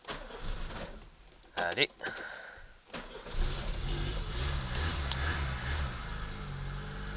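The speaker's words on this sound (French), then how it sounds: "On met le starter presque à fond. Là. Et elle devrait démarrer." A Peugeot 106 petrol engine cranks with the choke pulled nearly full, catches after a few turns and settles into a loud, steady idle close by, with someone speaking briefly over the cranking.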